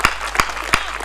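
Audience at a Hindi comedy show clapping, a few sparse, sharp claps spaced out over a second, fairly close and without a full crowd swell.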